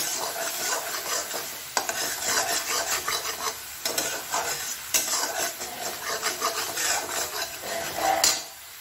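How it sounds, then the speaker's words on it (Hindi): A green chilli and garlic paste is stirred in a pan for a paneer butter masala, giving a continuous close scraping and rasping with a light sizzle underneath, broken by brief pauses and one sharper scrape near the end. "मैं कम से कम दो तीन मिनट से इसे चला रही हूँ"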